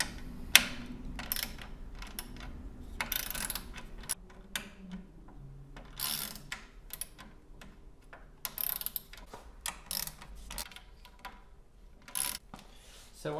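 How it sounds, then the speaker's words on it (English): Bolts being loosened on the beater of an AVL K-Series handweaving loom while changing the reed: a string of sharp, close mechanical ticks and ratcheting clicks in an irregular rhythm, with no talk. "So you can just start by loosening all the bolts up."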